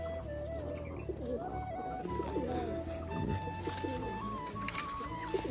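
Pet pigeons coo softly and repeatedly in their loft, with low, throaty calls rolling one after another against a faint background murmur.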